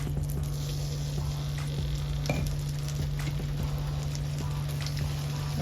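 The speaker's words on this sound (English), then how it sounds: "to the same pan, I'm gonna add in 2 tablespoons of minced garlic" Two tablespoons of minced garlic hit a hot pan used for pork chops and cabbage, crackling in a dense, steady sizzle with occasional sharper spatula scrapes and a low background hum.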